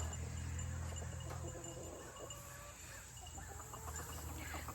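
A hen and a rooster cluck faintly under a steady wash of insect and cricket chirring in an outdoor setting.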